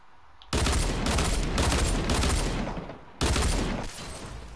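Hand cannon gunfire in a video game: loud, dense bursts of shooting that start abruptly, run for several seconds, pause briefly, then resume just as loud.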